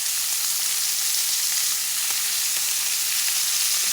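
Unsalted butter foams and sizzles in a hot pan beside a seared tri-tip steak, a close, even, hissing fry with faint pops and no talking.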